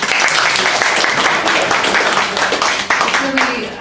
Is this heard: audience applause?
yes